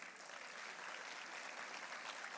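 Dense, steady audience applause at an awards ceremony for a mini-enterprise festival, a continuous wash of many hands clapping, moderately distant and even throughout, with no talk over it.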